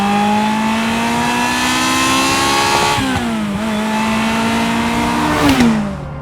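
A Ferrari F355 engine revs hard while the car drives through trees, a loud, sustained high-pitched howl that climbs, drops briefly at a gear change, then climbs again before easing off.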